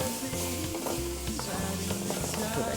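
Garlic and chili fry in a pan for a Filipino beef stew, giving a steady close sizzle with some stirring scrapes, loud and continuous, no talking.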